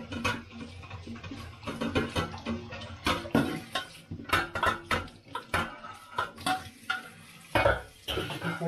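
Oily dishes being washed by hand in a kitchen, with dense clattering of plates, pots and cutlery, scraping and splashing water, loud and close, steady throughout with frequent sharp clinks.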